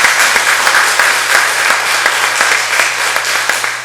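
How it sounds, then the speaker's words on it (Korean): A church congregation at a Sunday worship service claps in loud, steady applause, individual sharp claps standing out against a continuous crowded patter with a faint hum beneath. "우리 한번 큰 박수로 기쁨을 나누겠습니다"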